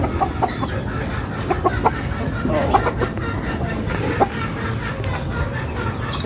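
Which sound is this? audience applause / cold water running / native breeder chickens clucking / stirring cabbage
native breeder chickens clucking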